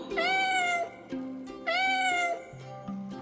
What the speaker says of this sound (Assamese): মেকুৰী